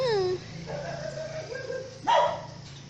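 A street dog that is a neighborhood favorite lets out a whining yelp, then a sharper bark-like burst a couple of seconds later, both close by, with a person talking around it.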